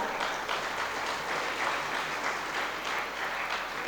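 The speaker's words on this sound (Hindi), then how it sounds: "तालियां बड़ी कमजोर है" Applause from an audience at a religious discourse in Bhilai, Durg, a steady, moderate patter of many hands clapping, heard from a little distance and holding even throughout.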